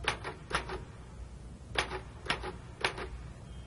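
Bursts of sharp mechanical key clacks in short clusters, like a typewriter or keyboard entering numbers, separated by pauses, close and moderately loud.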